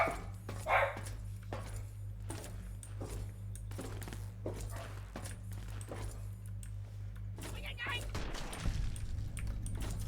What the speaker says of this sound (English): dog heard someone walking a block away, so she had to go ape shit.